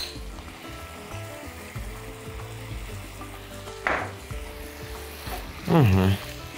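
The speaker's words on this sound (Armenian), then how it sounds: "Կրծքամիսը թող տապակվի" Steady sizzling of meat frying in a pan, with brief louder bursts of crackle and stirring near the end.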